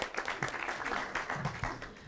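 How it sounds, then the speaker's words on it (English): Audience applause at a lecture series event, a short burst of many hands clapping together, fairly faint and distant, fading slightly toward the end. "Give a round of applause."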